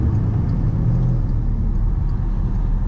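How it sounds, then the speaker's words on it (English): Porsche Cayenne Turbo exhaust and engine rumble while driving with the rear windows down, a steady low drone heard from inside the cabin with no talk. "Let's see if we'll hear some exhaust note with the rear windows down."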